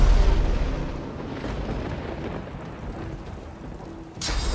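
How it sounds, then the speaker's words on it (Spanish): Steady rain hisses over low, rolling thunder in the video game Divinity: Original Sin 2, fading slightly before a sudden burst of brighter noise at the very end. "no me preocupa mucho lo de la lluvia"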